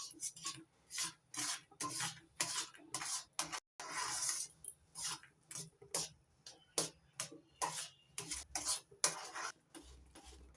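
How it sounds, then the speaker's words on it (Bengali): A spoon scrapes and rubs through a raw mango mixture with black salt and ground pepper, rhythmic rasping strokes repeating in quick bursts with short pauses, close and clear. "এবার ভালো করে মিশিয়ে নেব।"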